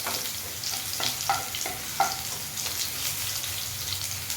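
Garlic fries in oil over a low flame for a raw mango pickle, giving a soft steady sizzle with light spoon taps and stirring clicks, close by and free of speech.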